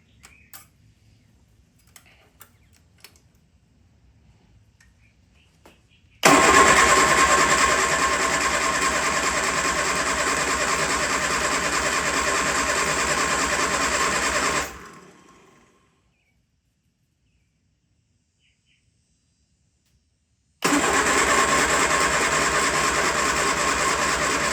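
A Triumph Spitfire engine runs in loud, steady bursts. It starts after a few faint clicks, runs for about eight seconds, cuts out into silence, then starts again with an even, buzzing idle.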